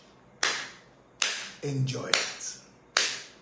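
Four sharp, single hand claps ring out at uneven intervals, each crisp and close with a short decay, while someone talks briefly between them.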